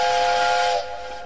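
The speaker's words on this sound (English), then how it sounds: "That's Emma's whistle" An animated locomotive's steam whistle sounds loud and close in one sustained, steady tone with a breathy hiss, then cuts down to a quieter hissing tail.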